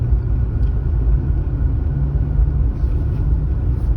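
A car rolls down a steep mountain road on the Phu Ruea–Tha Li route in Loei, its steady low engine and road rumble droning continuously and close, with no voices over it.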